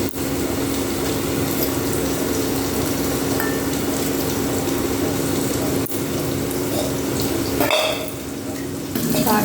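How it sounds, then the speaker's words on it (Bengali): Pointed gourd and onion fry in a pan with a constant moderate sizzle, occasional spoon scrapes and a brief clatter near the end, steady and fairly close. "পটলের সঙ্গে পেঁয়াজটা কিন্তু অনেকটা সময় ধরে আমি ভেজে নেব।"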